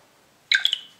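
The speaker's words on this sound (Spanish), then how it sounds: "Está el sonido del teléfono." Vexia Zippers Phone 5 smartphone plays a short bright chime when powered off, a quick cluster of a few electronic tones that fades out after a moment of silence.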